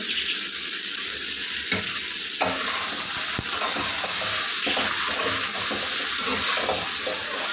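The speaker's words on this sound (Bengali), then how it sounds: "অনেকক্ষণ কষালাম, আমি প্রায় 10-15 মিনিট তরকারিটা কষে নিলাম" Ridge gourd curry with turmeric and salt fries in a pan and gives off its own water. The sizzle is continuous and wet, a spoon stirs and scrapes it now and then, and there is no speech.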